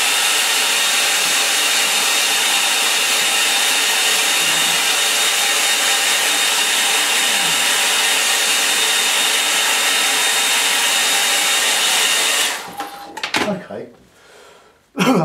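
A hair dryer blows loud and steady for about twelve seconds to dry a painting of a sailing barge on the coast, then cuts off, followed by a few faint handling noises.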